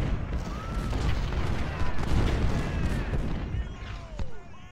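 Cannon fire in the Civil War strategy game Ultimate General: Civil War: repeated deep booms and artillery blasts roll over one another in a dense battle din, with faint whistling shells arcing through.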